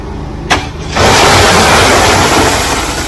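A plate compactor tamper for compacting stone kicks into life after a short knock, then runs as a loud, steady engine drone that holds through to the end, close by, with no talk.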